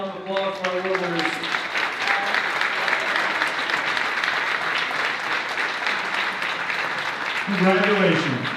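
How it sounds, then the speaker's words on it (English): School board meeting audience giving another round of applause for student winners, dense steady clapping throughout with a voice speaking over the start and end. "How about one more round of applause for our winners?"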